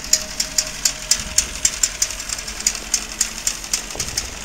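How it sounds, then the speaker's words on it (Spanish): A small electric generator runs nearby at a remote ranch without mains power, a steady rhythmic ticking pulse about four times per second over a low mechanical drone. "el ruido que están escuchando es de ese generador."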